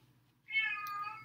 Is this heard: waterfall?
no